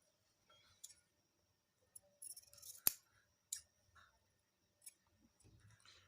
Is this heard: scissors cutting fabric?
yes